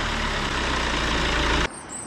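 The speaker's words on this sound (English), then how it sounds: "Mainly, the bearings are worn in the alternator, and as a consequence of that, it's making some pretty horrific chirping noises" Worn alternator bearings on a BMW N47 diesel engine produce a loud, steady running noise with broadband harshness, cutting off sharply just before the end.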